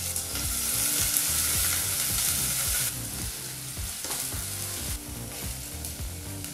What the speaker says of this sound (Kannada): 2 ಈರುಳ್ಳಿನ ಸೇರಿಸಿ ಒಂದು 2 ನಿಮಿಷಗಳ ಕಾಲ ಮೀಡಿಯಂ ಫ್ಲೇಮಲ್ಲಿ ಈರುಳ್ಳಿನ ಚೆನ್ನಾಗಿ ಫ್ರೈ ಮಾಡ್ಕೋಬೇಕಾಗತ್ತೆ